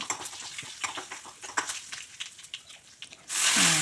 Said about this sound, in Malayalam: ഇനിയിപ്പോൾ കറിവേപ്പില ഇട്ടു കറിവേപ്പില മൂത്ത് വരുമ്പോൾ